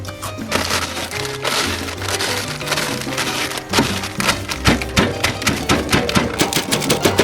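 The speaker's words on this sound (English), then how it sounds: "I might actually grab some chips because I've got way too many. Right, I'm going to crush them." A packet of Doritos chips is crushed by hand, giving dense, rapid crackling and crunching that grows into sharp bursts near the end, heard over a steady musical background.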